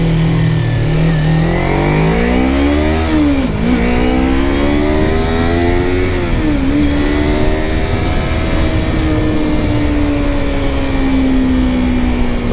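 A Kawasaki Ninja 250 motorcycle engine revs up and down through its gears while riding, pitch rising and dropping in sweeps before settling into a steady higher drone, loud and continuous with no talk.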